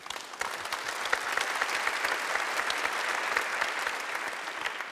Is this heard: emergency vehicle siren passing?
no